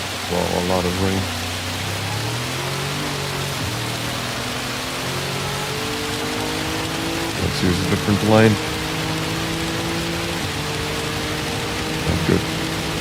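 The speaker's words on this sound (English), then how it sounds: "Well, a lot of rain." Heavy rain drums as a steady hiss over a race car on track at Suzuka in Gran Turismo 7, engine tones rising and falling through gear changes, with someone talking over it.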